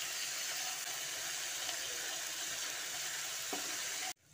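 Spice paste of Kashmiri chilli and cumin with a splash of water sautéing in a pan, a steady close sizzle and hiss that runs unbroken and then cuts off abruptly near the end, with no talking.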